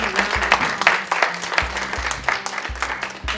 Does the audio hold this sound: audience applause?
yes